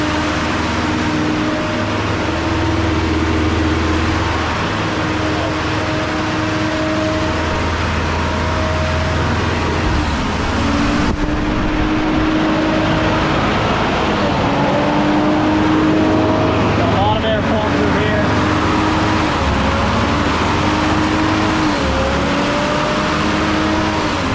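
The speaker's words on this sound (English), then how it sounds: "I don't know why it's doing that revving thing" A Toyota car engine runs steadily at idle, its pitch rising and falling as it revs up several times, loud and close throughout.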